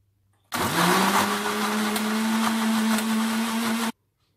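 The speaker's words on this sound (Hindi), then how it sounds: "अब हम इसे मिक्सी पे चला लेंगे।" A blender blending mango and milk whirs loudly for about three seconds, a steady high motor drone with churning, then cuts off abruptly.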